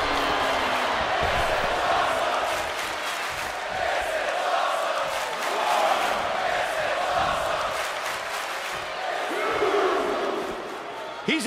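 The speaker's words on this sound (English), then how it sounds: "The crowd is fired up." A wrestling arena crowd in WWE 2K24 roars and cheers continuously during a Chad Gable vs. Uncle Howdy match, a dense swelling wash of voices with a commentator talking over it.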